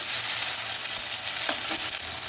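Tomato and chopped onion frying in a pan, a steady, hissing sizzle that stays even and close, with a couple of brief stirring knocks midway.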